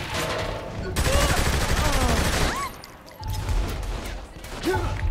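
Bursts of rifle gunfire in Saints Row The Third Remastered, loud and dense rattling volleys with explosive crashes, pausing briefly midway before resuming, mixed with game effects.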